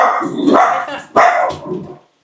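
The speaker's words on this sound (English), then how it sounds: "The dogs are celebrating." Dogs bark loudly and excitedly nearby in a kitchen where steak is being cooked on an induction cooktop, two clustered bursts of barks and yips with a growling edge.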